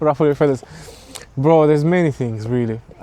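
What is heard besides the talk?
No everyday noises stand out.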